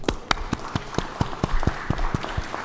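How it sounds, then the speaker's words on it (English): Applause from an audience in a state senate legislative chamber during a session, heard as a steady wash of clapping with individual sharp claps standing out, moderately loud and with no talking over it. "Let's give them an applause,"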